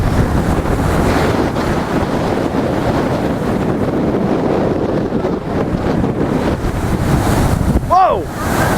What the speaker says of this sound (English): the water's splashing right up